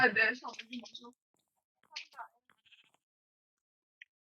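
Sheep bleating in the Minecraft video game, a few short nasal bleats near the start followed by fainter, sparse game sounds and a small click, with no talk over them.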